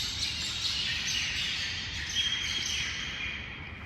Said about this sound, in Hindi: ये देखो पक्षी।